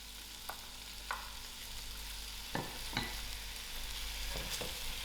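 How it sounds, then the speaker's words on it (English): Green beans fry in masala for a vegetable korma, a soft steady sizzle with a few sharp clicks and scrapes of stirring spaced a second or so apart, close and fairly quiet with no speech. "Now I'm just going to throw in my green beans."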